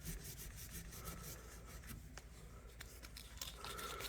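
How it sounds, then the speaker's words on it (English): An antique knife is hand-sanded with 600 grit sandpaper in steady, quiet back-and-forth rubbing strokes, close and faint, with no talk. "So you can sand down in there a little bit."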